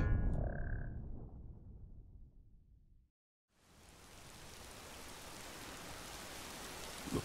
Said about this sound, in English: Looks like we've got a rainy day today